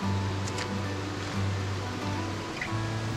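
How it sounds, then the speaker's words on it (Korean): Chikso waterfall rushes in a steady, broad wash of flowing water, continuous and fairly loud throughout with a low engine-like hum beneath and no talk. "일단 시작점은 이곳 칙소폭포입니다."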